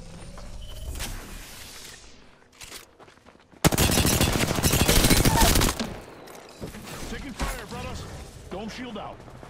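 Dense burst of automatic gunfire in Apex Legends, loud and sustained for about two seconds mid-clip, framed by quieter game mechanisms and scattered effects with talk nearby.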